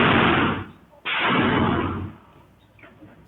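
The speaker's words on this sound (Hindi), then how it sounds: "ताबड़तोड़ गोलियां बरसा दी गई।" On grainy CCTV at a grain market in Hanumangarh, Rajasthan, attackers who arrived on a motorbike open fire. Two loud, harsh blasts about a second apart each trail off in a muffled echo before a quieter stretch.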